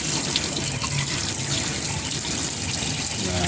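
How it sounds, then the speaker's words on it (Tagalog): Pansit-pansitan herb washed under running tap water, a steady close splashing gush filling the whole stretch with no talk. "Hugasan lang mabuti"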